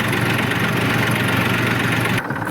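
A tractor engine idles steadily at close range, a loud, even rumble holding throughout with a slight dip near the end and no voices.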